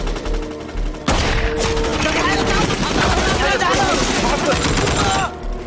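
Machine gun fire rattles in a dubbed Hollywood action movie, a loud sustained burst of rapid shots with dialogue mixed underneath.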